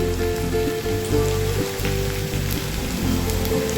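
Oil spitting around frying potatoes, onion and cauliflower for a winter veg fry gives a continuous, rain-like patter and hiss, steady and near, with no one speaking.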